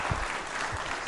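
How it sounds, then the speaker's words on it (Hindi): Brief applause from an audience at a legal quiz event, a dense, even wash of clapping heard alone without any talk. "थैंक यू, तालियां बजाइए"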